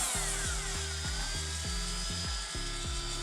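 A Strata STG12 12V cordless tungsten grinder is switched on and off repeatedly at variable speeds. Each run gives a close, whining motor hum with a short rise and fall, about eight bursts in quick succession.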